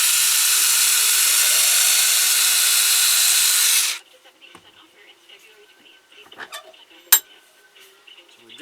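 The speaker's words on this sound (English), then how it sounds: "So we drilled this in here." Drill boring into a wooden ventriloquist dummy figure, a steady loud whirring hiss for about four seconds that cuts off abruptly, followed by faint handling clicks and small knocks.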